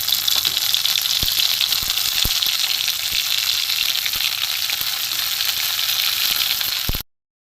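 Tharkol leaves dry-frying in mustard oil in a wok give a loud, continuous close hiss with occasional faint ticks, ending abruptly near the close.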